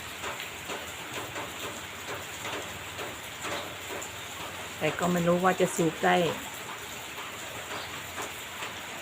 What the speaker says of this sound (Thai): ฝนตกทั้งวันอย่างนี้